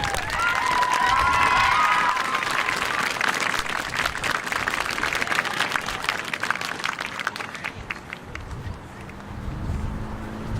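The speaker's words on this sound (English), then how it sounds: "once again, a round of applause for our seniors" Sustained crowd applause with cheering at a marching band community night honoring the seniors, loud and dense at first, then thinning and fading toward the end.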